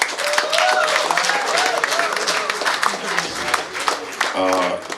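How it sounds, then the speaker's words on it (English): Applause from an audience at a baseball awards gathering honoring a team member, steady dense clapping for several seconds with voices and cheers mixed in, tapering near the end as a voice starts. "Round of applause for Jazz."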